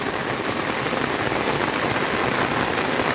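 Heavy monsoon rain pours steadily over a flooded river and farm field in the Konkan countryside, a dense, unbroken hiss of drops that stays loud and even throughout, with no voices.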